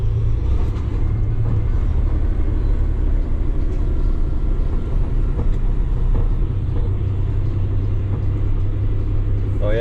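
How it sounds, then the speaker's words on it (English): A 2025 Kenworth T880 truck driving around a quarry, its engine giving a steady, loud, close low rumble that continues without break throughout. "Obviously I'm just driving around the quarry here, but it doesn't really feel loaded"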